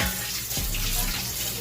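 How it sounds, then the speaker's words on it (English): A steamer pot full of small holes being rinsed under a running kitchen tap, giving a steady, close splashing water stream throughout with no pauses. "Let me rinse that out real quick."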